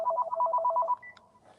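A landline telephone rings with a rapid electronic warble for about a second, then cuts off, close and clear with no talking.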